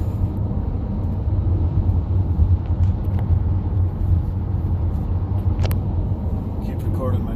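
Interior road noise from a 2015 Dodge Caravan with a surging and stalling fault, a steady low rumble of driving, with a brief squeak near the end.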